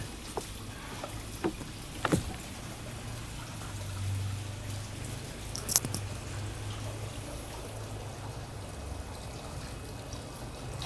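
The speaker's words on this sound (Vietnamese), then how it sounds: "Rồi bây giờ Nguyên sẽ chế nước sôi lần một" Boiling water is poured into a Vietnamese phin filter holding Son La specialty Arabica coffee, a steady soft stream under a low background hum, with a few faint knocks near the start and no voices.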